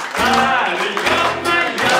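An audience at a Defender of the Fatherland Day concert claps along in steady beats to a sung patriotic song, the claps sitting under loud, close singing voices.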